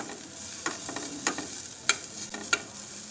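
Softened vegetables frying in a pan while being stirred, with a steady low sizzle and several sharp scrapes of the spatula, close and fairly quiet, with no talk.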